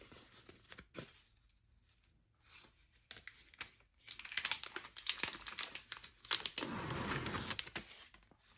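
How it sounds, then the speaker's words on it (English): Reusable transfer tape peeled back from Dollar Tree vinyl, giving a few soft crinkles at first and then a longer, louder run of crackling, tearing rustles close up with no talk. "I'm going to pull it back, peel back."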